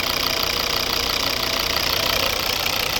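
A 2011 Volvo S40 with the 2.0 D3 five-cylinder turbo diesel and automatic gearbox idles up close. It gives a loud, even, steady drone with a fine diesel clatter throughout and no voices.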